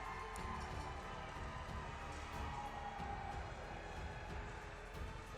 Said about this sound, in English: Gags trying to get the crowd into it.